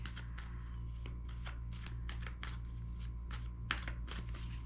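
Tarot cards being shuffled by hand give a quick, soft, repeated flutter of riffles and slaps, close and quiet, over a low steady hum.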